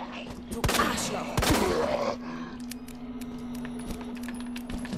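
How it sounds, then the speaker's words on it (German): Gunfire in the survival horror game Resident Evil 2, a cluster of sharp, loud shots in the first two seconds followed by quieter clicks and game ambience under a steady hum. "Sechs Schuss sind echt nicht viel."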